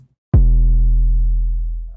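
A single distorted 808 bass note with added harmonics from Serum hits sharply after a brief silence and sustains deep and full for about a second and a half before tapering off, with no voices.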